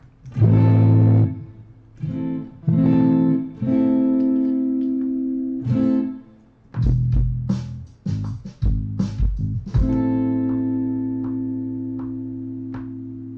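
Electric guitar chords strummed on a basic clean tone in a rhythmic pattern, then a final chord left to ring out and slowly decay, clear and close.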